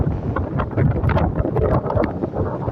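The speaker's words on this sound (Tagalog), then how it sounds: "hindi nyo gaano marinig yung boses ko kasi napakalakas ng hangin" Strong typhoon wind buffets a microphone on the seashore, a loud, continuous rushing roar with gusty low-frequency rumble throughout and no clear voice on top.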